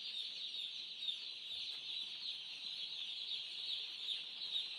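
A flock of poultry birds on a farm keeps up a steady, faint chorus of high peeping and clucking, continuous and somewhat distant, with no talk.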